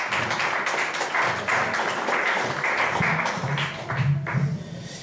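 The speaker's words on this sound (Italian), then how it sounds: "Un applauso per la mummia." Sustained applause from an audience at a live show, a dense wash of many hands clapping at steady loudness for several seconds, with a few voices mixed in.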